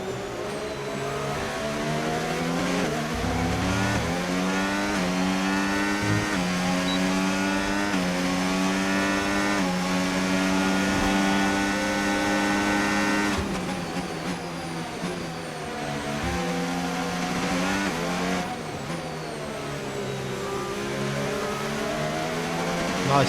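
Formula 1 race cars in the F1 25 video game roar past in an overtake, a sustained, high-pitched engine whine whose pitch climbs and falls through gear changes. It plays loud and continuous, with faint talk underneath.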